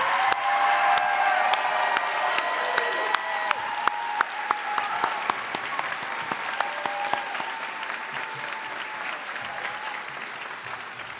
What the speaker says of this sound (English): one more round of applause for this amazing group of future nurses